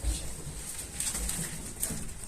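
Carrier pigeon cooing softly, with low murmuring coos half buried in steady background hiss at close range.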